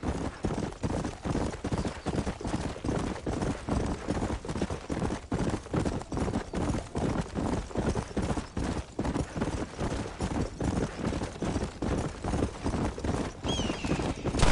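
A horse gallops steadily in Red Dead Redemption, its hooves drumming a fast, continuous clip-clop rhythm that stays close and prominent throughout, with no speech over it.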